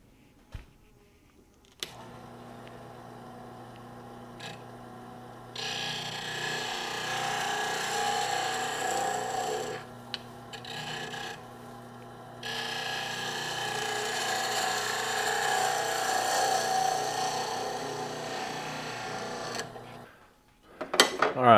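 A wood lathe spinning a bottle stopper blank as the end is finished: a steady motor hum with long stretches of close, hissing cut, pausing briefly midway before resuming, then winding down.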